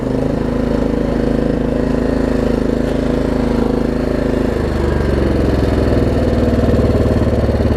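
Small engine of a Troy Bilt Pony riding mower idling close by, a loud steady chugging drone that settles to a lower, rougher idle about halfway through.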